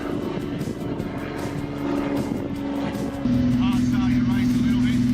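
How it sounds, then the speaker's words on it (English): Propeller plane climbing to skydiving altitude over Rottnest Island, a steady loud droning engine hum with a strong low tone that grows louder partway through, with talk heard faintly over it. "It's a 20-minute flight up to altitude."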